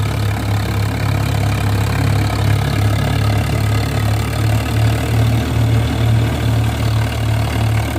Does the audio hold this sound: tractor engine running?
yes